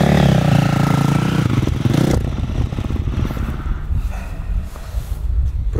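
Electric motocross motorcycle riding on a wet, slippery dirt track, a loud close rush and whine with scraping and clatter that drops in intensity after two seconds.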